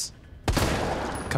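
A single loud, sharp gunshot in the survival horror game Resident Evil 3 Remake, aimed at a zombie's head, cracking suddenly after a quiet moment and ringing out briefly.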